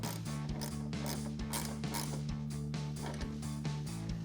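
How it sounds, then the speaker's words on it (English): A 10mm ratcheting wrench tightens a headlight bolt on a 2014-2015 Silverado 1500, giving a quiet run of rapid, evenly spaced ratchet clicks close up, with no talking. "And then we can take a 10mm ratcheting wrench to tighten that down."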